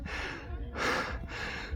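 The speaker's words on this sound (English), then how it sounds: "Apologise for the heavy breathing, but yeah, again, the altitude" Heavy breathing from a person at high altitude among stone ruins near Cusco, two or three broad, breathy gusts in quick succession, close and fairly loud.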